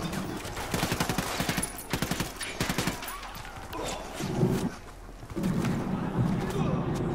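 Rapid bursts of gunfire crackle in quick succession in the video game Ghost Recon Wildlands, while someone talks excitedly in Iraqi Arabic over and between the shots.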